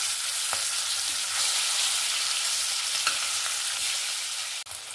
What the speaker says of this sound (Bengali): এবার আমি মাছটাকে ভেজে নেব হালকা হালকা করে